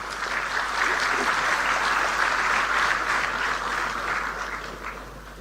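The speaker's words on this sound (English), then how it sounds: "A huge round of applause." Audience applause at the opening of a quantum computing facility in Amaravati, a loud, steady wash of clapping from a crowded hall that swells and then slowly fades.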